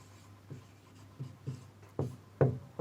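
A pen writing a formula on paper, giving short scratchy strokes in an irregular rhythm that grow a little louder toward the end, close and clear with no talking.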